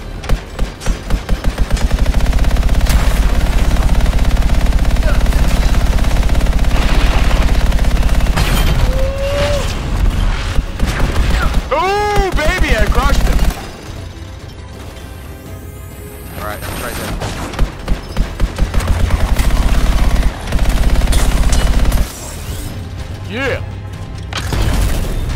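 Gunfire in the video game Anthem crackles in long rapid bursts, loud and dense, broken by short pauses, with mechanical clatter and voices speaking over parts of it.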